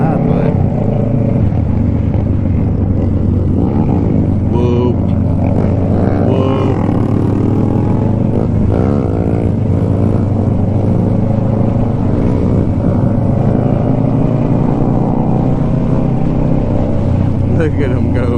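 Several Grom mini motorcycles ride fast alongside one larger bike, their engines droning and rumbling loudly and continuously with shifting pitch, while people talk over the noise.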